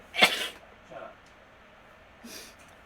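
A single loud, sharp sneeze bursts out close by, followed by quieter breathy sounds and a fainter second exhalation, with a voice speaking briefly afterward.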